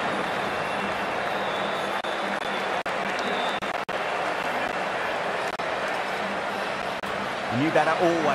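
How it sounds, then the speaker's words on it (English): Stadium crowd in the Cricket 24 video game during an IPL 2024 match, a continuous broad roar of cheering and applause under a commentator's voice, with a few brief cuts and some whistling near the end. "already the crowd is up and about"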